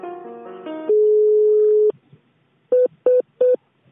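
Telephone tones during a call transfer: a short sequence of stepped dialing tones, a long steady tone, then three brief repeated beeps after a pause, clear and alone.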